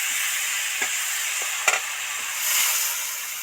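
Water poured into hot oil and spices for a katla fish curry, giving a steady close sizzle that swells into a louder hissing burst near the end, with a few faint stirring clicks.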